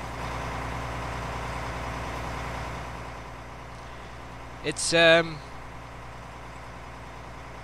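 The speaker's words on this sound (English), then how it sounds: "And there goes our Claas to unload" A Claas tractor sets off to unload a combine harvesting beans in a field, its steady low engine drone running throughout while a person briefly speaks midway.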